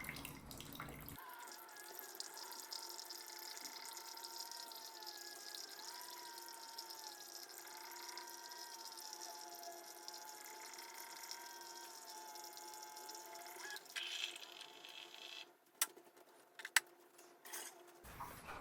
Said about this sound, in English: press the brew button there to begin brewing our first cup